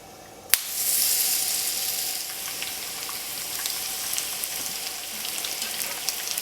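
Zucchini blossom fritters fry in an extremely hot pan, a steady crackling sizzle that starts suddenly with a sharp pop and carries on evenly with scattered spits and crackles, close and alone.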